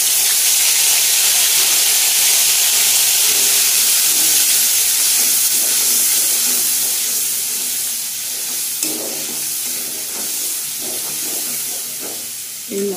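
Fennel paste drops into hot oil already frying whole garam masala, fennel seeds, cloves and cinnamon, giving a loud steady sizzle and hiss that eases gradually, with occasional clatter from stirring.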